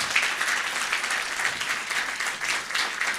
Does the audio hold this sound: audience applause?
yes